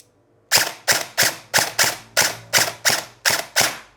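Ten sharp, evenly spaced shots from an airsoft rifle firing in semi-auto mode, each a crisp snapping crack with a short tail, close and loud against an otherwise quiet background.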